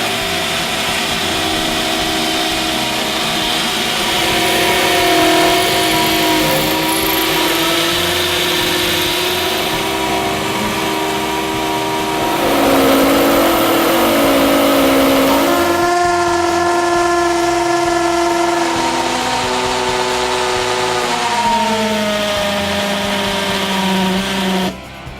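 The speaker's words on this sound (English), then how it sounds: "test number 3 there with the hammer drills into the concrete lintel" A loud, continuous whine with shifting pitch from a Hitachi hammer drill boring into a concrete lintel, running steadily for a long stretch before cutting off.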